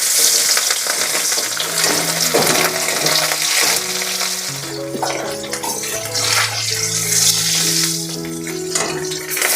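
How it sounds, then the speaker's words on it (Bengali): Marinated katla fish pieces fry in hot mustard oil, giving a loud, bubbling, crackling sizzle that runs continuously alongside melodic background music. "তেলটা গরম হয়ে গেছে এবার ম্যারিনেট করা মাছগুলো দিয়ে দেবো"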